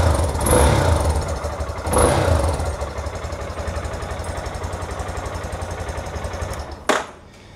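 An 800 motorcycle engine being prepared for a service check starts up, revs twice with loud surges, then settles into a steady idle before a sharp clunk and the engine cutting off near the end.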